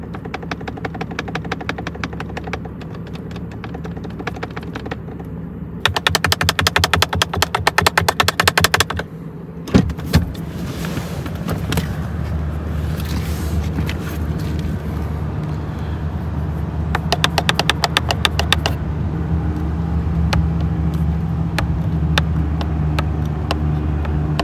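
Plastic cabin parts rattle and buzz in bursts of fast clicking over a steady engine and road hum inside a moving Toyota Camry Hybrid.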